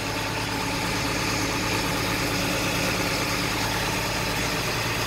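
The diesel engine of an LMTV military truck runs steadily with the PTO engaged for the winch, giving a loud, constant close-up rumble and vibration with no talking.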